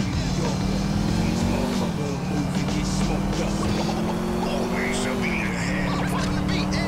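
A spawned Vauxhall Astra's engine in a modded driving game hums steadily at idle with a slight rise and fall in pitch, continuous and fairly loud, with no talk over it.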